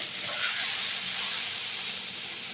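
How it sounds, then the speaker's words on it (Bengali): Water lily stems fry with garlic and chilli in a hot pan, giving a steady, close sizzling hiss throughout with no voice. "দেখুন এবার আমি নাড়াচাড়া দেবো।"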